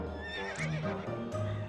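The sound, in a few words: horse neighing, from the video game To The Moon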